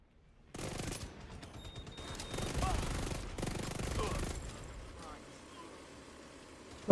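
Mounted gun fired by an NPC in the video game The Division 2, fast bursts of automatic gunfire in several stretches over a low engine-like rumble, with voices talking over the shooting.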